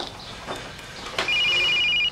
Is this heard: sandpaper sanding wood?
no